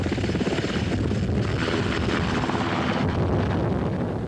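Black Hawk military helicopters in flight during flood relief after Hurricane Mitch in Honduras, 1998, a loud continuous rotor thump and engine roar heard close by and steady throughout.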